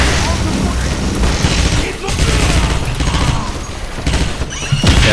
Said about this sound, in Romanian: stai că s-a dat cu grenadă